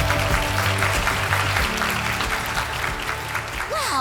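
An audience claps steadily for a speaker named Elena Keller at a presentation event, dense sustained applause from a full room that carries on throughout, with a faint voice over it near the end.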